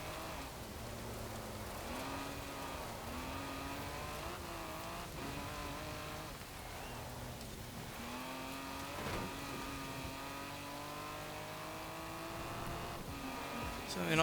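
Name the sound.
1969 Toyota 2000GT driving offroad in video game Forza Horizon 4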